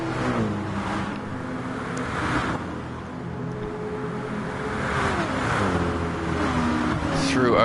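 Mercedes and Porsche race cars in a wet racing video game at Spa run as a steady engine drone with rising and falling revs and passing whooshes, heard under continuous commentary.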